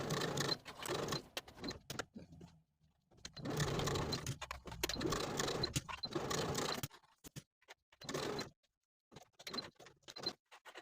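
A sewing machine stitches around the curved back neckline of a cardigan in short, stop-start bursts separated by silent pauses, fairly quiet and close.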